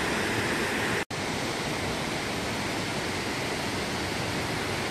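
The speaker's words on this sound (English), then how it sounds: "That's the waterfall there." A waterfall on the Coomera Circuit at Binna Burra roars with steady, dense rushing water without pause, broadband and full, with a brief instant of silence near the start.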